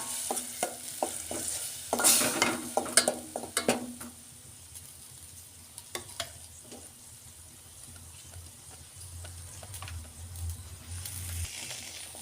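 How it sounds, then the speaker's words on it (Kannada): Ground chili masala fried in oil for bendekai huli, with a soft sizzle under repeated scraping and clinks of a spoon stirring in a pan, busiest early on. "ಅದನ್ನು ಹಾಕಿ ಚೆನ್ನಾಗಿ ಇದನ್ನು ಸ್ವಲ್ಪ ಎಣ್ಣೆಯಲ್ಲಿ ಫ್ರೈ ಮಾಡ್ಕೊಳ್ಳೋಣ"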